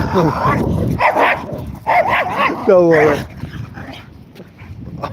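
Dogs on a beach near Withernsea bark, yip and whimper in short bursts close by, with a rising whine midway, while a person talks over them.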